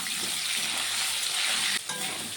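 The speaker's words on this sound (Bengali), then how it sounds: "দিয়ে আমি আলুটাকে ভেজে নেব" Long potato strips with a pinch of turmeric and salt frying in hot oil, a dense, steady sizzle close up, briefly dipping before resuming.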